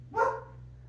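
A labradoodle gives one sharp, loud bark close by, a single short burst that fades quickly, with no talking over it.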